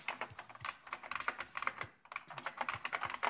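Typing on a late 2016 Unicomp Classic 104-key buckling spring keyboard, a rapid irregular run of loud, sharp clacky keystrokes close by, with a brief pause partway through before the typing resumes.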